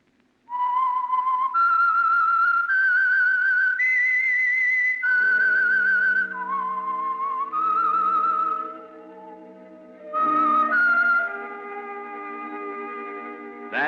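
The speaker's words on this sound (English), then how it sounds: "That whistle is your signal for the Signal Oil program, The Whistler." A man whistles a slow, eerie melody of sustained notes, clear and close with a slight echo, as the theme signal of the Signal Oil radio program The Whistler, a 1946 broadcast.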